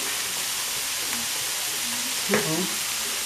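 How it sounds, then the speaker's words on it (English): Semi-translucent vegetables frying with dry parsley and two bay leaves, a soft continuous sizzle in the pan with a brief stirring scrape, and a voice speaking briefly over it. "I'm going to give it a stir"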